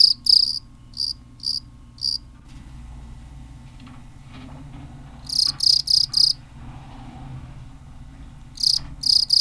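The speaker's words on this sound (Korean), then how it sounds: "우리에게 가장 친숙한 이 소리의 주인공은 귀뚜라미다" Crickets chirp in repeated bursts of short, high, bright pulses, several clusters spaced across the stretch, with quiet night-time background hum between them and no voices.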